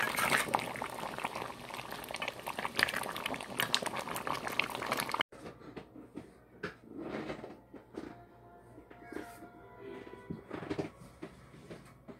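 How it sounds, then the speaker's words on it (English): Oxtail simmers in a pot, bubbling and gurgling steadily at close range, with a quieter stretch of softer bubbling in the second half. "It's simmering now."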